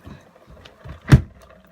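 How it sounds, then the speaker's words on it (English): A window being shut indoors during a heavy rain shower, one short solid thud of the frame closing near the end after faint rustling, close and alone. "I think I have to close my window"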